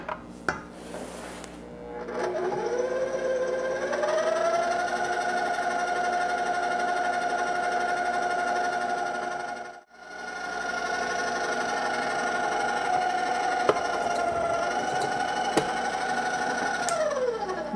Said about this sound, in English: Now I'm going to blend this up before we add the flour.